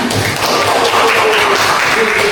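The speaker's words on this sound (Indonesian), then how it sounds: "Let's make applause for us again" Students in a West Lombok high school English classroom clap together, giving a dense, even patter of applause that lasts the whole stretch.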